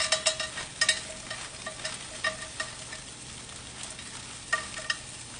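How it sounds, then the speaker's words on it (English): Frozen vegetables fry in a pan for bacon fried rice, giving a steady close sizzle broken by sharp pops and spatters, some in quick clusters, with no talking. "I'm also going to add some of these frozen veggies because they do need some cook time for sure."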